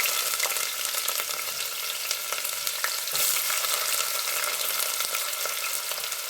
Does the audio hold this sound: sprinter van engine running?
no